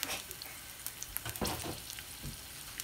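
Broccoli stir frying in a hot pan, with a soft crackling sizzle and scattered pops and clatters of stirring, fairly faint and close, with no talking.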